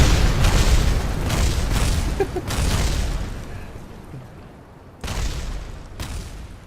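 Spacecraft blowing apart in Kerbal Space Program: a rapid run of booming explosions, several heavy bursts in succession, a short lull, then more blasts near the end.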